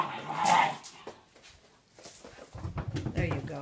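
Otterhound puppies whimper and yip up close, with soft growly noises and a person talking partway through.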